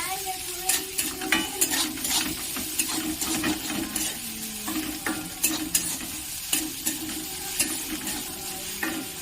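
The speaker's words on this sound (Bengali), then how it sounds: "আদা রসুনটা দিয়ে দিলাম।" Ginger and garlic frying in a pan with onions, a steady close sizzle broken by repeated sharp scraping and stirring clatters, with no talking.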